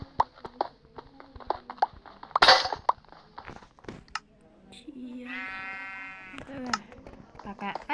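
Sheep bleating in Minecraft during cobblestone mining, a drawn-out bleat over repeated sharp block-breaking clicks and thuds, with a voice talking throughout.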